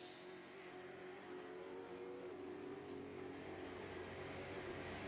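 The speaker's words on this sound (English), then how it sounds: "I can hear a car coming." A race car in the Assetto Corsa sim, running a Supercars event at Winton, drones steadily with a sustained engine tone that holds loud and even throughout, with no voices over it.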